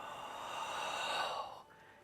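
One long, deep cleansing exhale during a qigong exercise, a soft, breathy rush that trails off into quiet.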